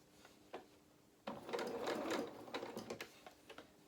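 A sewing machine stitches the curved seam of a fabric doll's head, a Highland Cow doll, with a few short needle bursts followed by a longer, close, rapid stitching run.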